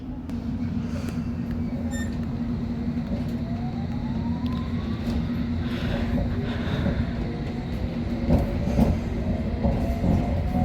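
A London Underground Hammersmith and City line train runs toward Barking, a steady loud rumble and hum of the moving carriage with squealing tones and faint rhythmic clicks of the rails.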